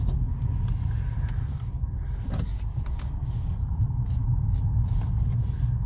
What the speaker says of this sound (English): I've got to turn the vehicle around here.